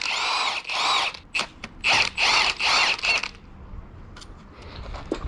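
Bolts come off an ABC pump on a damaged Mercedes M113K AMG engine as a ratcheting power tool whirs in several close, loud bursts, each with a buzzing clatter, before quieter handling noises follow.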